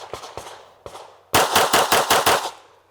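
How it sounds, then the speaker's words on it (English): Pistol gunshots ring out during a shooting practice run at a range, two single shots and a third, then a rapid string of five close, loud sharp cracks with short reverberant tails. "I did 6 shots."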